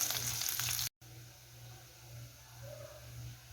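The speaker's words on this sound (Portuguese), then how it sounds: "tá bem fritinho, tá vendo?" Steady crackling sizzle of calabresa sausage frying in a pan over moderate heat, close and continuous, with a brief dropout near the start.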